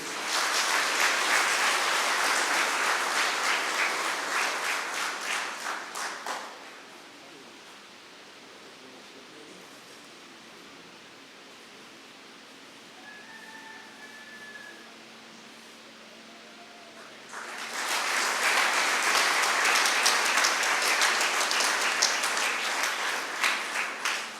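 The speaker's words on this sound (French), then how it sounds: "Sous vos applaudissements, s'il vous plaît" An audience at a Caritas 30th-anniversary jubilee awards ceremony bursts into loud, sustained applause, dies away into a quiet stretch, then erupts into another long round of clapping.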